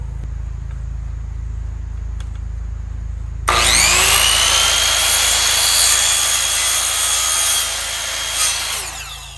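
Power saw making an angle cut in chair rail wood: a quiet lead-in, then a sudden loud high whine as the blade spins up and bites, held steady for about four seconds before winding down.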